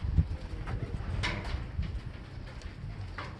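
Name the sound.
pigeons flying and cooing near a breeder's coop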